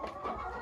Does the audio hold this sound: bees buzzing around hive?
no